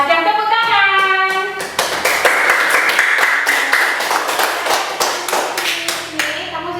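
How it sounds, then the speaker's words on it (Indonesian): Children in a classroom clap their hands together in a loud, fast, ragged burst of many sharp slaps close by, after a sung or chanted voice at the start and with a few voices over the clapping. "Tepuk tangan."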